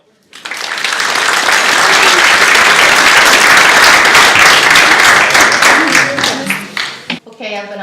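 Symposium panel audience breaks into sustained applause, loud dense clapping that swells quickly, holds, then thins out toward the end.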